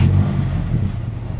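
A Mitsubishi Lancer's 4G67 engine idles roughly and unevenly just after starting, a low steady rumble with a slightly lumpy, misfiring pulse, close and alone without talk.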